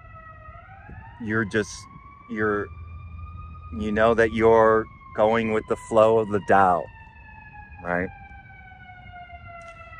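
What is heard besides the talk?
ambulance siren passing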